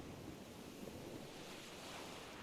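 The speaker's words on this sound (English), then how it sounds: "Mark, you hear the soft waves in the background? The sound of the ocean?" Soft ocean waves in the background, a quiet continuous wash of surf with light wind noise, steady and faint, with no voices.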